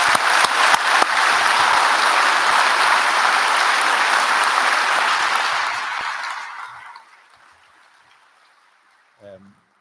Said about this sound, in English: So I'd ask you again to give them a big round of applause.